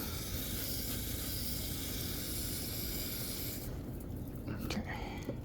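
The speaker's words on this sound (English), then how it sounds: "Spray the knife a bit." A steady hiss of aerosol spray onto a fillet knife runs for several seconds, close to the mic, then cuts off into quieter handling noise.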